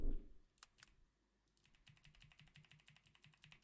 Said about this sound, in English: Let me see if I can turn it down just so it doesn't pick up the keyboard.